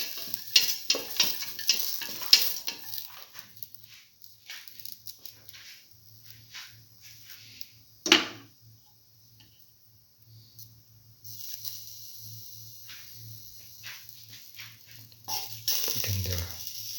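Ginger and salt sautéing in a pan, a soft steady sizzle with occasional stirring scrapes and one sharp clack, quiet and close, with no talk.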